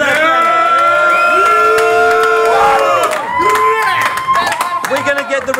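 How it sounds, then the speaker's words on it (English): Crowd at a rap battle event cheering, whooping and clapping loudly after a round, a dense continuous roar of voices close by. "Give it up for that battle! Come on, guys, make some noise for that battle!"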